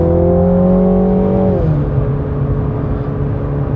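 A MINI GP3 drives on the Donington track, its engine droning steadily from inside the car, then easing to a lower pitch as it lifts off, loud and close with no talk.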